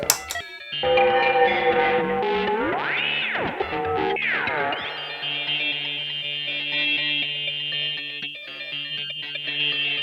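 Harsh, metallic ring-modulated guitar tones from a ring modulator pedal, with clangorous, inharmonic overtones, including swooping pitch bends, sustained and fully processed with no clean signal.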